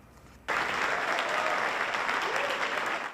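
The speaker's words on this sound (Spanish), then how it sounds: "Entre aplausos del público" Gala audience bursts into applause for a teacher award, starting abruptly after a quiet moment and holding as a dense, steady roar of clapping before easing off at the close.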